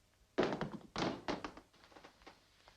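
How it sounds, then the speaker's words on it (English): Guns dropped in a horror movie land as a cluster of dull thunks and taps, fairly soft and close, trailing into lighter knocks. "Drop those guns."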